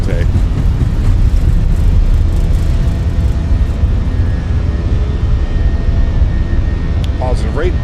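Fenix A319 engines spooling at takeoff power in a flight simulator game, a loud steady jet roar with a rising whine, continuous, with a voice speaking over it near the end.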